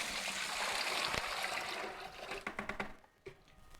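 About a gallon of water poured into a bucket for a GFRC concrete mix, a steady splashing gush that tapers into uneven trickles and drips near the end.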